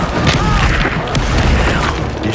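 A fire spell cast in the Hogwarts Legacy video game, heard as a loud, dense whooshing burst with booming impact energy that fills the whole moment, with no talk over it.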